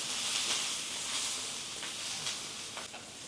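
Onions grill in a pan with a steady, close sizzle and faint crackles, with occasional soft scrapes as they are pressed and turned.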